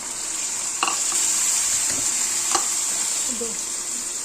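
Whole spices and masala frying and being stirred in a hot pan for eggplant bharta, a steady sizzle throughout with occasional spoon scrapes and clinks, close and fairly loud.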